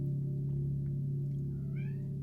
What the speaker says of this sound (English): No, bad cat.